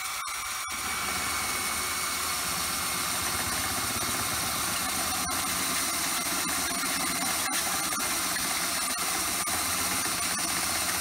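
A power drill spinning continuously during a bartop arcade cabinet build, with a steady high whine and motor hum, loud and close, with a few brief clicks.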